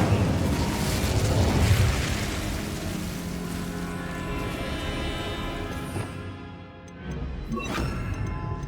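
A fire spell, Incendio, cast in the video game Hogwarts Legacy: a dense, roaring burst of crackling flame that swells loud early on, dips briefly, then flares up again near the end.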